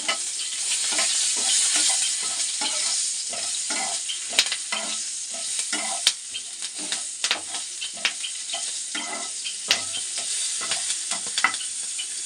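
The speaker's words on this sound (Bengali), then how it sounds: "কালো জিরে কাঁচা লঙ্কা কাঁচা লঙ্কাটা একটু নেড়ে ছেড়ে নেব" Green chilies and nigella seeds sizzle loudly in hot oil while a spatula stirs them, scraping and tapping the pan in a quick, irregular rhythm close by.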